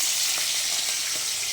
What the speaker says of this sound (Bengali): আমি একদম মাছ ভাজবো বলে তেলটা বসিয়ে দিয়েছি। তেলটা বেশ ভালো গরম হয়ে গেছে।